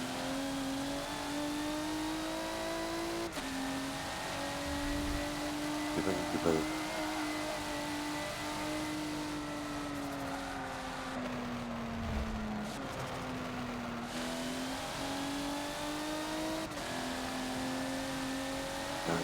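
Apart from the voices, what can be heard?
car engine revving at full throttle, Forza video game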